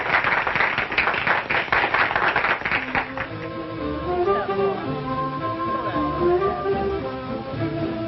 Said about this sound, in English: What do you say we bring him on with a great big hand?